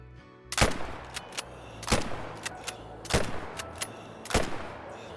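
Four loud rifle shots at a red deer stag in the hunting game Call of the Wild, spaced about a second apart, each a sharp crack with a short echoing tail over a quiet outdoor ambience.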